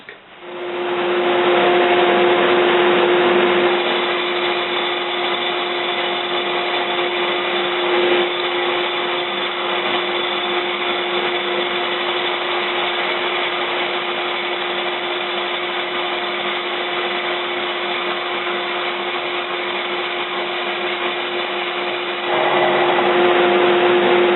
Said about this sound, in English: So I've got to turn on the dust collector, turn on my big fan